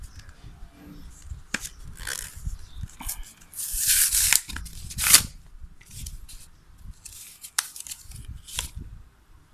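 Scissors snip Scotch permanent double-sided tape for a DIY watercolor palette, giving a series of sharp, close cuts and crisp crackles scattered over about ten quiet seconds, with faint handling rustle between them.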